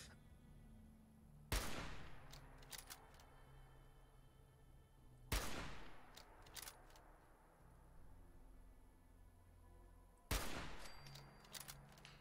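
Three loud, sharp hunting rifle shots from the video game Fallout 4, spaced a few seconds apart, each with a crisp crack and short echoing tail over quiet game ambience.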